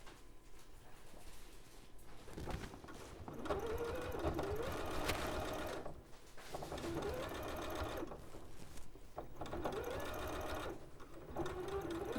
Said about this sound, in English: Now I'm going to sew literally right up to the pin.